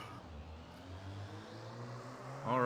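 Race cars in a Skip Barber Series sim race at New Hampshire, engines droning and rising together at the start, a steady mid-level hum that swells sharply near the end.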